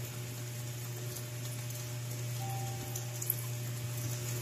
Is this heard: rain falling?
yes